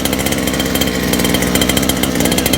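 A motorcycle engine runs steadily just after carburetor work, a loud, close, buzzing idle with a fast, even rhythm and no talking.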